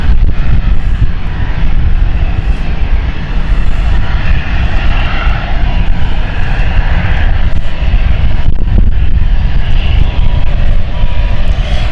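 A loud, steady roar from an Embraer 190 jet at London City Airport carries on without a break, close and dominant. No voices are heard.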